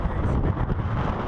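Steady wind roars and buffets the microphone throughout, a dense low rumble with no clear voices, on a breezy day out on a bike.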